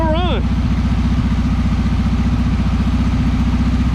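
A revived 1976 Volkswagen Beetle with a 40 Ford kit runs steadily on its first start in years, its engine chugging with an even rapid pulse, preceded by a brief wavering whistle-like tone.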